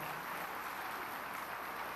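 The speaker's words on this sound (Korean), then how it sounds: "힘차게 우리 자녀들 박수하며 격려하겠습니다." A church congregation claps for its children in a steady, dense, quiet wash of applause that continues without a break.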